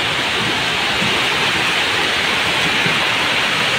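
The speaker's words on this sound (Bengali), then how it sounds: "প্রচুর পরিমাণে বৃষ্টি হচ্ছে," Heavy rain pours during a hailstorm with strong wind, a dense, steady roar of broadband noise, loud and close and unbroken for the whole stretch.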